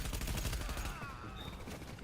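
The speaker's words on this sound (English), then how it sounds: "Here I'm rolling with a sniper rifle and a Chris Vector submachine gun" Rapid gunfire in The Division video game from a Kriss Vector submachine gun and a sniper rifle, a fast, dense burst of shots rattling loudly for the first second before thinning into scattered reports.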